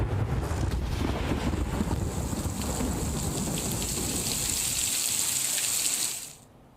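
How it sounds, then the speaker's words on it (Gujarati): Heavy, torrential rain pours down in Surat as a dense, steady roar with a hiss of wind, loud and unbroken, then cuts off abruptly near the end. "સુરતમાં મન મૂકીને ધોધમાર વરસાદ વરસ્યો છે"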